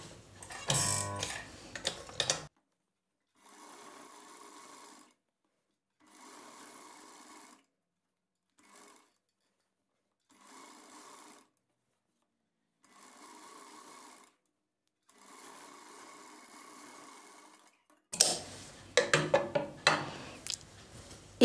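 A sewing machine runs a double stitch along a blouse seam in a tailoring class, whirring in short, even bursts separated by pauses, with louder handling noise at the start and end.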